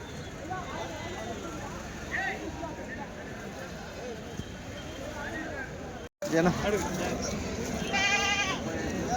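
Goats bleating at a weekly goat market in Kadiri, a few wavering cries rising over a busy crowd murmur, with people talking nearby throughout.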